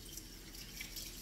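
Hands rinsed under running tap water in a kitchen while preparing stuffed tomatoes, a steady close splashing and trickling stream without talk.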